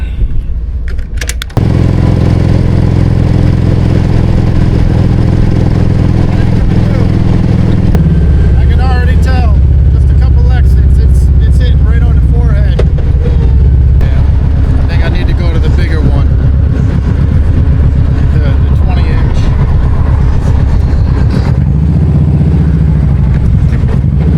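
A Kawasaki Vulcan Voyager motorcycle cruises along with a steady low engine drone beneath loud, constant wind roar buffeting a rider in a half-shell helmet behind a small windshield.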